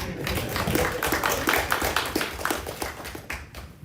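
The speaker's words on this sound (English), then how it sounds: "Let's clap for him." An audience at an exhibition event applauds, a dense, steady patter of many hands clapping at moderate distance that tapers slightly toward the end, with no talking over it.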